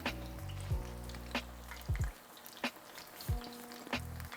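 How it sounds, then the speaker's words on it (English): Belizean conch fritters frying in hot oil, a steady close sizzle broken by several sharp taps and clinks, with a low tonal hum underneath. "Sit in the oil to about 300 to 275 temp and fry it nice and crispy."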